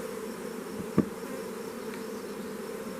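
Honey bees buzzing during a hive inspection, a soft steady droning hum with a single sharp click near the start.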